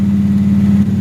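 A 1970 car engine fitted with a Holley 850 carburetor, running while driving down the road, a loud, steady low droning hum close by with no voices.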